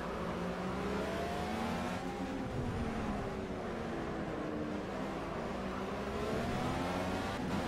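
A race car engine in the racing game Project CARS, a continuous droning whine with rising and falling pitch sweeps as it accelerates and shifts, steady and fairly loud with no talking.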